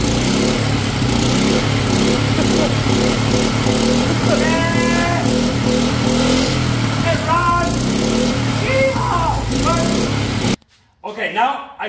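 A Honda engine that had sat unused for at least a year runs steadily and loudly up close, with people talking over it, then cuts out near the end.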